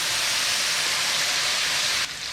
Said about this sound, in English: which is to deglaze with the soy